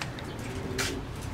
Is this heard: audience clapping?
no